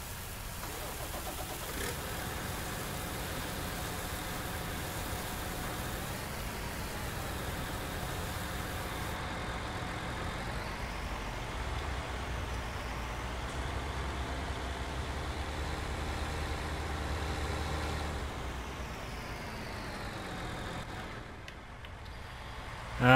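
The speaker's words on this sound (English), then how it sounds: "And we need to move this tractor." A tractor engine runs steadily in Farming Simulator 19, a continuous mid-pitched drone with slight changes in revving, while a person talks over it.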